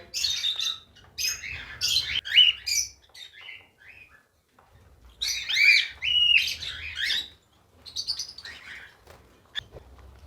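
A pair of cockatiels, a healthy active breeding pair with the female in view, squawk and chirp in close bursts, sharp shrill calls clustered in two busy runs with a brief lull between and a few scattered notes at the end.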